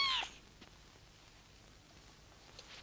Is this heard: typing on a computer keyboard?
no